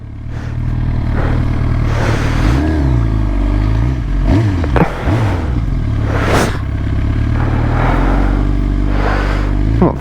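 Engine of a GSXR 750 sport motorcycle on a road, a loud continuous drone with swells and dips, passing traffic and some clatter mixed in, no talking.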